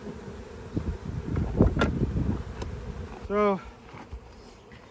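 Honey bees buzz steadily around an open swarm hive during an inspection, a dense close hum that keeps going under brief speech, with a short rising tonal whine near the end.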